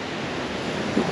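Ocean surf washing onto a favela beach in Rio de Janeiro, a steady broadband roar of waves with wind across the microphone, loud and continuous with a slight swell near the end, no voices.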